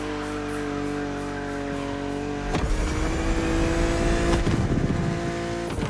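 A BMW Z4 roadster in a Need for Speed Most Wanted racing game holds a steady, tonal engine drone, then surges into a rougher, louder acceleration after a few seconds.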